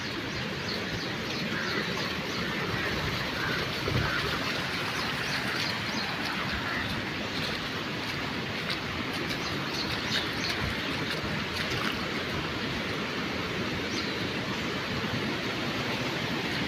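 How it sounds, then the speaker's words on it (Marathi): Heavy rain pours down in a dense, steady hiss with no break, broad and continuous, with a few faint chirps over it and no talking. "एवढा पाऊस पडतोय"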